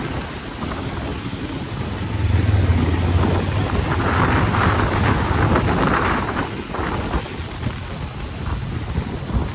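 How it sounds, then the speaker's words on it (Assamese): Rain and gusting wind roar steadily into the microphone during a motorcycle ride toward Guwahati in Assam, with the rider in a raincoat; a dense, loud wash of noise swells after the first couple of seconds. "গুৱাহাটীলৈ আহোঁতে বৰষুণে পালে"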